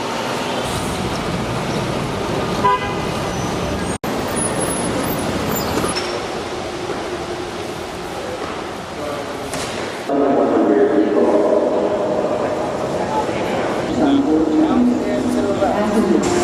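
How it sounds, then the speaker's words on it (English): Amtrak P32 dual-mode locomotive, able to run on diesel or third-rail power, with a steady loud rumble of train and track noise that swells near the end while a person talks over it. "as we come out here, you can see a P32 locomotive, which is a dual-mode locomotive capable of using both a third rail and a diesel engine"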